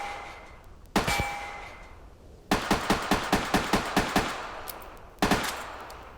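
A suppressed gun in the VR game Tactical Assault fires semi-auto: a short burst opens, then a steady run of about ten evenly spaced crisp shots follows after a pause, and a final pair closes it, each with a metallic clack.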